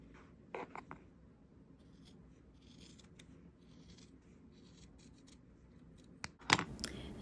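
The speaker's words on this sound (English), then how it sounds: "With some scissors, cut out each of those squares." Scissors cutting squares out of fabric, a few quiet snips near the start and a louder crisp cluster of cuts toward the end over a faint hush.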